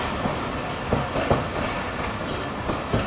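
A train rolls past at Bhagalpur railway station platform, wheels rumbling with repeated clicks and faint squeals over a steady, fairly loud rail noise, with no one speaking.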